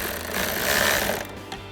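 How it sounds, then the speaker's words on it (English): A ratchet with an 8mm socket and extension snugs two 8mm mounting bolts on a 2021-2024 Ford Bronco during a tail light install, giving a quick, fairly loud mechanical buzz of clicking for about a second before it tapers off. "reinstall those 2 8mm mounting bolts with our 8mm socket extension on our ratchet"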